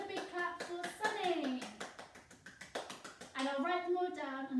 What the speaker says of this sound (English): Another big clap for Sunny.